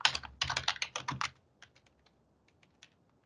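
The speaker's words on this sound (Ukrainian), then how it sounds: "натиснути клавішу табуляцію на клавіатурі" Rapid typing on a computer keyboard, a quick burst of close, crisp key presses for over a second, then a few scattered, fainter single taps with pauses between.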